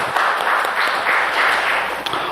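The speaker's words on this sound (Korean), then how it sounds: "영광의 박수를 주님께 돌리십시다." A church congregation applauds in worship, a dense, steady wash of many hands clapping at moderate loudness for about two seconds, with no voices over it.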